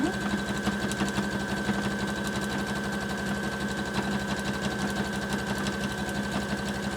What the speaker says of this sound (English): a zigzag definitely takes longer to stitch than a straight stitch